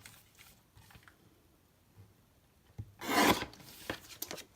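A paper trimmer's blade rasps across a sheet of craft paper in one loud, brief scraping pass, preceded by soft handling rustles and light taps in a quiet room.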